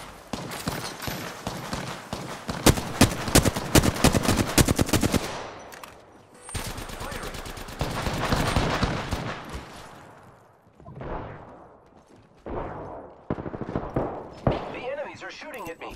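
Rapid machine-gun fire from enemies in a shooter game, long rattling volleys up close, then a pause and several shorter bursts, with speech mixed in.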